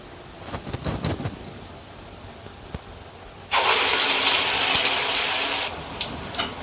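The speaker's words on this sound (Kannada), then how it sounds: "ಉಳ್ದಿರೋದನ್ನೆಲ್ಲ ನಾನು ಎಣ್ಣೆಗೆ ಹಾಕ್ಕೊಂಡು ಫ್ರೈ ಮಾಡ್ಕೊಂಡು ಬರ್ತೀನಿ" Urad dal vadas drop into hot oil and a loud, broad sizzle bursts in for about two seconds before fading. Faint kitchen knocks come before it.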